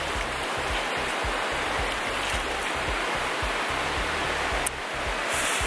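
Water rushing steadily over large rock formations at a stream near Cherambadi, Wayanad, a continuous broadband roar close by with no pauses, loud throughout and no voices.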